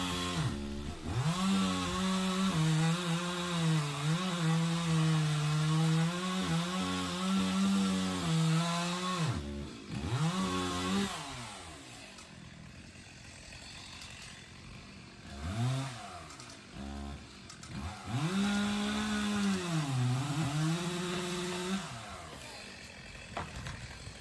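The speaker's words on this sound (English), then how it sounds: "a little help with a chainsaw" A chainsaw cuts up a fallen tree branch brought down with a rope, its engine droning loud and steady, then dropping and revving again in several surging bursts.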